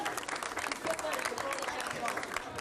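A studio audience applauds steadily at a Cameroonian comedy show, the dense clapping filling the room with a voice or two mixed in.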